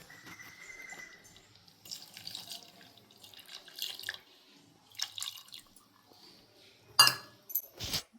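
Strained coconut milk pours and trickles into a pot of moong dal payasam in short splashy bursts, with drips and a few clinks in between, close by and fairly quiet.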